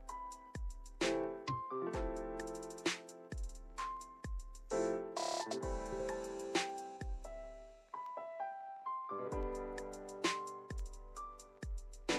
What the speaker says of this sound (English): all of those sounds is my phone going crazy